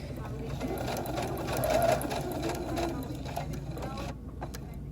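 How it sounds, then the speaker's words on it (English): A sewing machine runs continuously while sewing a wrap skirt's lining to its main fabric, a steady mechanical whir with rapid stitching ticks throughout. "you're going to sew the lining to the main fabric"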